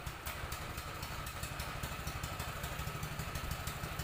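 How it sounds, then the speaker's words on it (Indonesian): A 5 PK water pump engine runs at a steady idle-like chug, close and continuous with an even rhythmic clatter throughout, used for draining a swimming pool. "sekarang sudah hidup mesinnya"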